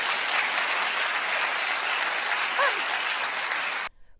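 A burst of audience applause from a crowd, dense and steady for about four seconds before cutting off abruptly, with a brief voice-like tone mid-way.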